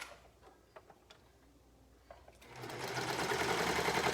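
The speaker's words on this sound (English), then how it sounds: "I'm sewing up and starting and stopping" Sewing machine stitches sleeves onto a garment with a 3/8 inch seam allowance, starting with faint short ticks and stops, then running into a steady, louder whirring stitch.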